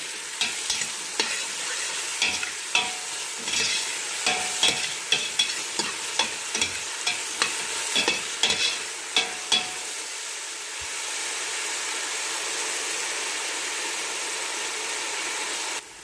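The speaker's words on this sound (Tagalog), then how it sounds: "halo-haloin ng ganito guys ha. Hanggang sa maluto yung onion guys." Onions frying in a pan while being stirred, rapid scraping strokes over a bright sizzle for about ten seconds, then the stirring stops and only a steady frying hiss continues.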